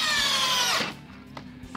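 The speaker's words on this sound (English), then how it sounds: "he's gonna drive this inch and a half screw into this board" Harbor Freight Warrior cordless drill driving a 1.5-inch screw into a wood board, a short loud rising motor whine that stops abruptly under a second in, followed by faint knocks.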